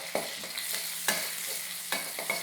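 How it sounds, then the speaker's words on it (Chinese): Shallots frying in about three tablespoons of oil for sambal, a steady close sizzle punctuated by several sharp spatula knocks and scrapes against the pan. "先把这个小葱头爆香"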